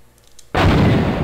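Gunfire in a PlayStation video game, shooting through a gate: after a quiet start comes a sudden loud blast of heavy, booming shots that runs on as a dense, rumbling roar.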